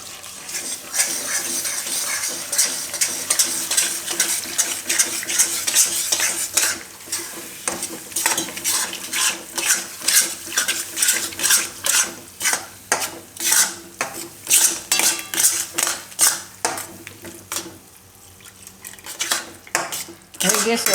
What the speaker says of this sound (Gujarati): હવે આપણે આમાં દૂધ નાખતા જાઉં ને મિક્સ કરતા જાઉં.